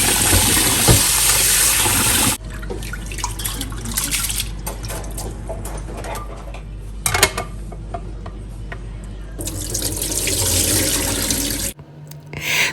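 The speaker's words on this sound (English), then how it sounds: "So I washed my rice 4 times just to make sure that the water that came out was very crystal clear" Rice is rinsed under a running kitchen tap for Ghanaian jollof, with a loud steady stream broken by a quieter stretch of swishing and dribbling, then the tap flowing hard again before it stops.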